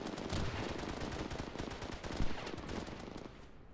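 Rapid gunfire in a Fallout video game match, dense overlapping bursts of automatic shots with a sharp heavier blast near the middle, continuous and loud throughout without talk.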